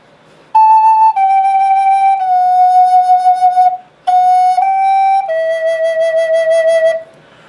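A Native American flute plays a short alternate-fingering pattern, shifting between two-hole and three-hole fingerings in clear sustained tones, with a brief pause midway, solo and close.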